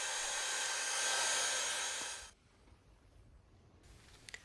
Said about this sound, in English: some very low temperature hot air is used to speed up the drying process